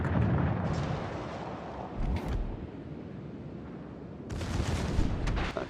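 Warship secondary guns firing a salvo at a Z23 destroyer in World of Warships: Legends, deep booming blasts over a dense rumble, with a sharp crack near the middle and another heavy burst toward the end.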